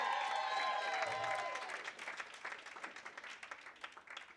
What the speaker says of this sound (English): Damon and Elizabeth, let's give them a round of applause